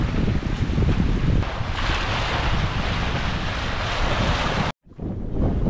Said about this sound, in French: il y a des rafales à 35 nœuds dans le couloir entre les deux îles